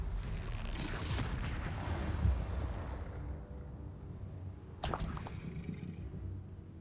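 A Confringo explosion spell is cast in Hogwarts Legacy, a dense rushing blast of noise that dies away, then a sharp crack partway through, set against ongoing combat ambience.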